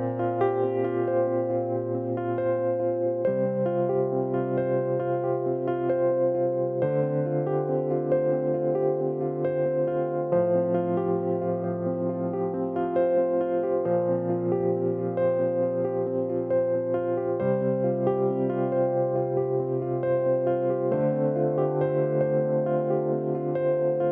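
Keyboard playing the bridge of a song, sustained chords shifting every few seconds over a steady low bass line, moving to an F over A, played alone at an even, full level.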